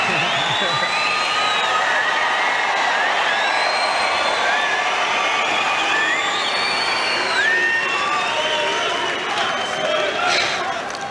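A crowd at a night session of the Australian Open tennis, Melbourne, roars loudly and continuously, with scattered shouts and high whoops rising and falling above the general din.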